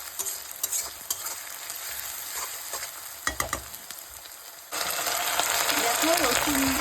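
Ginger-garlic paste frying and being stirred in a pan for spicy Bengali chicken kosha, a steady close sizzle with scraping stirs that grows louder and brighter partway through.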